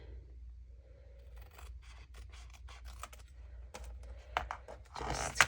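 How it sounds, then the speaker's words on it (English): Scissors snip along the edge of a paper journal cover, trimming close to a fold: a quiet run of short, crisp cuts that grows louder and rougher toward the end. "Then go back and just trim really close to that edge."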